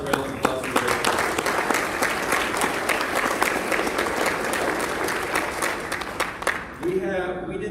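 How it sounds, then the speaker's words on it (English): An audience at a district business session bursts into sustained applause, many hands clapping at close range, tapering off toward the end as a voice comes in. "So could we please give that disaster response a round of applause?"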